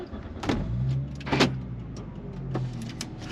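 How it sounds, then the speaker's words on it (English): A Volvo 850R car starting up, with broadband bursts of the starter and catch followed by a steady low engine hum carrying a slight whine, heard close and alone. "I'll turn the car on and see if we can hear this."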